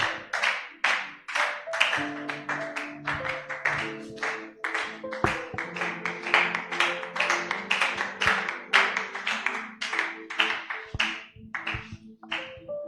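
Church congregation clapping to welcome a woman preacher, steady rhythmic applause in quick bursts for about thirteen seconds, with sustained musical tones sounding underneath.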